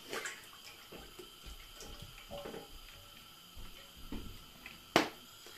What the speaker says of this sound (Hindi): मेरी कढ़ाई जो है वो छोटी है, इसमें मैं ऑयल डालूंगी।